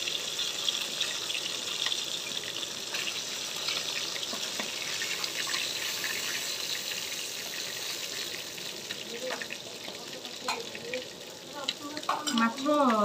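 Rohu fish frying in a pan gives off a soft, steady sizzle, with occasional clinks and stirring noises rising toward the end. The sound stays fairly faint and nobody speaks over it.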